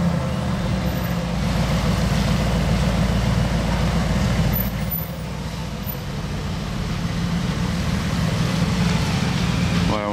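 A Ferrari Purosangue engine starting and idling with its exhaust valve closed, giving a steady, muffled low rumble that dips slightly midway, with no talk over it.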